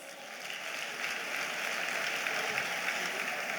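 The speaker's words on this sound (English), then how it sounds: "A round of applause." At an event honouring guests in Lagos, a crowd gives steady, hissing applause, a dense wash of many hands that holds at an even level throughout, heard from some distance with no distinct voices.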